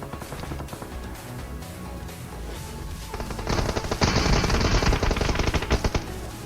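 Rapid automatic gunfire in a shooter video game, a sustained loud burst of shots hitting an enemy, with steady background game sound before it.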